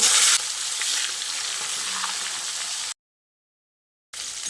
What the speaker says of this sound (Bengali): এবার আমি যে চিকেনটা ম্যারিনেট করে রেখেছিলাম সেই চিকেনটা এই তেলে দিয়ে